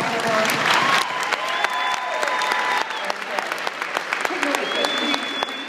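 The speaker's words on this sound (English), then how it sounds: "Another big round of applause for her." An audience at a spring launch event breaks into a long round of applause, many hands clapping with scattered sharp claps, while voices and whoops rise underneath.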